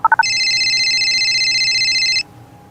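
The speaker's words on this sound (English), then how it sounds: "It's a phone. We're going to call Minnie and ask her to bring the gang down here" An electronic telephone ringtone from a children's Mickey Mouse storybook read-aloud: three short beeps, then one loud, sustained bright trilling ring lasting about two seconds before cutting off, heard alone without talk.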